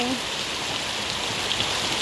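Steady rain falls on a garden with coconut palms, a dense even hiss of drops on leaves and ground, close and continuous throughout, with a faint voice briefly at the start.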